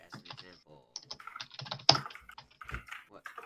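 Quick bursts of computer keyboard typing during a Minecraft session, clustered key clicks close to the microphone with pauses between them.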